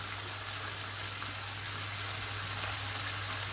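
Potatoes frying in a pan with a teaspoon of paprika give a steady, dense sizzle that runs evenly and close throughout, with no talk over it.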